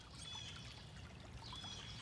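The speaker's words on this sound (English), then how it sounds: "It looks like the raging river's flowing a little more than it was before." A river runs along a muddy outdoor trail, a faint, steady trickling wash of water with birds chirping thinly in the background.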